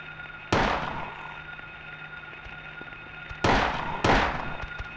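Gunshots in the horror video game Silent Hill 1, three loud, sharp reports with long ringing decay over a steady hum. The first is alone and the last two come close together.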